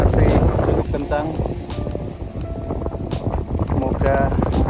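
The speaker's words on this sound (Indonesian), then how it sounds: "Kondisi angin masih cukup kencang." Strong, steady wind roars and buffets the microphone on a mountain trail on Gunung Andong via the Pendem route, with a person talking under the gusts.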